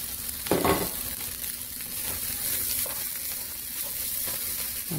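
Fried rice with vegetables sizzles steadily in a pan while being stirred, a continuous close frying hiss with occasional scraping stir noises over it and no talking.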